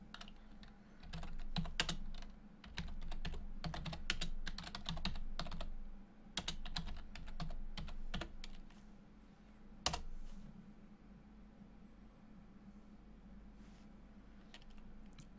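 Fingers tap out a Linux apt-get install command on a computer keyboard in a quiet room, bursts of quick clicking keystrokes broken by short pauses and a sharper key strike near the middle.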